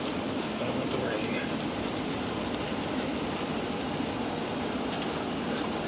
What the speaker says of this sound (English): Oh, the rain's coming down.